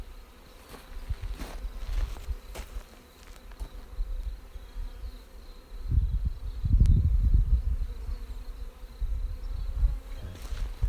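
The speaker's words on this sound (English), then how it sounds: "I might have smashed some bees there." Honey bees buzz around an open hive during a queen cage check, a steady close drone that swells louder midway, with light handling rustles and no talking.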